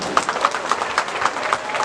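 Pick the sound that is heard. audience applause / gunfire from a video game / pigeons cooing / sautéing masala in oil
audience applause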